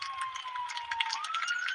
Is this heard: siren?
yes